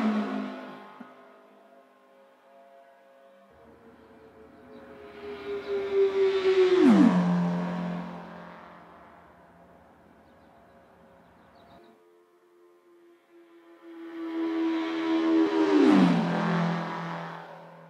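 A video game vehicle makes one lap of a large track, its engine tone holding steady then dropping sharply in two swelling passes that rise loud and fade back, with no voices.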